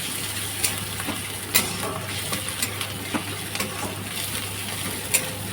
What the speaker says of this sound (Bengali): রসুনটাও ভালো করে ভেজে নেব